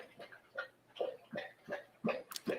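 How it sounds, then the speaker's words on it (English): A big dog laps water sloppily from a bowl, with a steady run of wet, slobbery slurps about every half second, close by and moderately loud. "I hear a dog drinking water."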